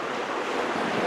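Steady broadband whooshing of a fan blowing, constant and fairly loud, with no voices.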